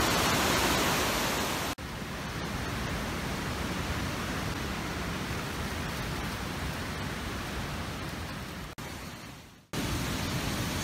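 Raging waterfall at War Falls heard from the bottom of the falls, a loud, steady, close roar of pounding water that fills the whole clip with only brief dips.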